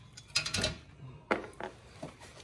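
A ratchet with a deep socket clicks through short bursts as a bolt is taken off during a front-mount intercooler install on a Fiat 500 Abarth, with a few close metallic clatters between pauses.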